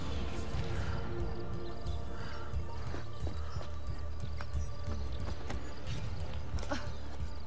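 In the Assassin's Creed Brotherhood video game, a horse's hooves clip-clop at a brisk, continuous gallop over a dense ambient game background, with a faint whinny.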